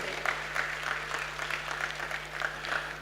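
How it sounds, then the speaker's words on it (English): An audience at a church women's faith conference applauds the panelists after a panel session, a steady moderate clapping with rhythmic individual claps audible, heard in a hall over a low electrical hum. "Can we give them some hearty round of applause?"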